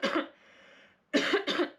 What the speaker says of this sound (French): je me trimballe une petite toux